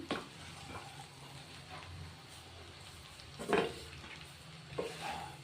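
Fresh pea masala vermicelli gently stirred in a pan, a soft continuous scrape and faint sizzle with a few louder spoon knocks, close and alone without talk.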